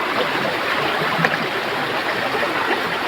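Water from a stream rushes steadily over rocks near rice fields, a continuous broadband flowing roar, close and fairly loud, with no pause across the short stretch.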